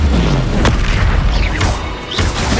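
Bombarda explosion spell going off in Hogwarts Legacy, a loud booming blast with sharp bursts layered over continuous game-combat noise.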